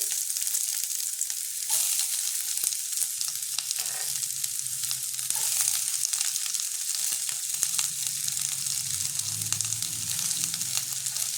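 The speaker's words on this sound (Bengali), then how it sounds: "পেঁয়াজটা আমি হালকা করে ভেজে নিয়েছি" Onion sizzling in hot oil with already-fried chillies in a Bengali macher tel preparation, a steady close crackling fry with occasional stirring scrapes throughout, no voices.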